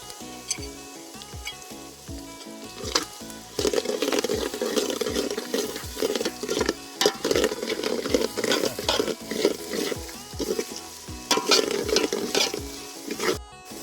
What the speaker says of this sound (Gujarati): હવે નાખી દો હા લીલા કાપેલા મરચાલા.